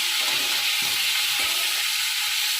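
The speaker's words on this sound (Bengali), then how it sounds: "এবার একটু ফুলকির সাহায্যে নাড়াচাড়া করে নিলাম আর কি ফুলকপিগুলো তেলের মধ্যে ভালো করে মিশিয়ে নিলাম" Cauliflower florets frying in oil as they are stirred, a loud dense hiss of sizzling with occasional low clunks of the spatula, close up and uninterrupted by talk.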